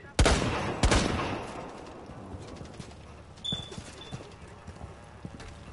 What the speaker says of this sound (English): Bandit's shooting from the other fucking building.